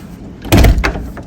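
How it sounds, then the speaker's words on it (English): An indoor door swings shut with one solid thud and a brief rattle, close and loud, in a room where houseplants are being tended. "I'm gonna close this door for now"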